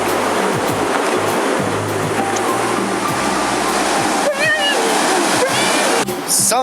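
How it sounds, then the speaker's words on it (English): Steady rushing of river water flowing outdoors, a broad, loud, continuous wash with splashing texture, close by and unbroken, with faint chirps briefly audible over it near the end. "I like the river."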